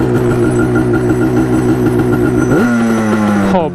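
A Yamaha Banshee ATV engine runs unevenly with the choke fully on and plugs needing replacement. The two-stroke drone is loud and close, holds steady, then dips and sags in pitch before cutting off near the end.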